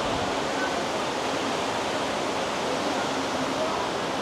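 River water flowing in a nature reserve, a loud, steady broadband rush that continues unchanged from start to finish, close and constant like a fast current or small cascade.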